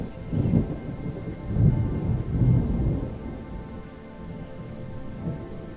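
A thunderstorm with heavy rain pours down steadily while deep rumbling thunder rolls in low waves and strong wind blows through, loud and close, with no voices.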